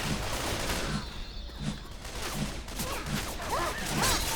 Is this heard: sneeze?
no